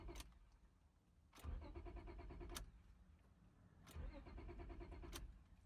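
A Honda Accord engine cranks repeatedly without catching, the starter whirring in rhythmic bursts separated by short pauses, close and steady.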